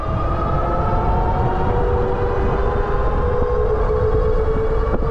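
An Aniioki A8 Pro Max e-bike motor runs on throttle alone, giving a loud, steady electric whine that edges slowly upward in pitch over constant rushing wind and road noise.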